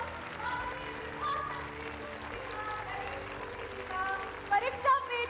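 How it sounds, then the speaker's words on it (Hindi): Applause from an audience at Talkatora Stadium rolls on continuously at moderate level, a steady wash of clapping under someone speaking over it, with a few sharper bursts near the end. "तालियों की जोरदार गड़गड़ाहट."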